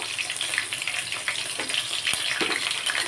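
Two green chilies go into hot oil with popped mustard seeds and cumin, producing a steady, close crackling sizzle with small pops throughout.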